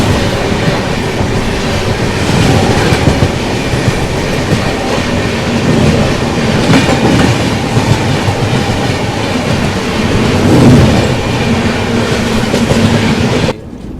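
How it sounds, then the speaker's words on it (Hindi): The Hatia-Pune SF Express runs on rails near Nagpur with a loud, continuous rumble and rhythmic clickety-clack of wheels over rail joints, heard from on board the moving train. "अपनी ट्रेन कुछ ही देर में इंटर करने वाली है नागपुर रेलवे स्टेशन।"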